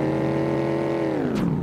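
A car in the game Enviro Bear 2000 drives along with a steady, loud droning engine tone, slightly falling in pitch near the end, alone without talk.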